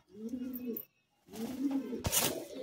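Madrasi pigeons of an old Arshad bloodline coo in low, throaty bursts, a short run of calls, a pause, then another longer run, fairly close and moderately loud with a brief rustle near the end.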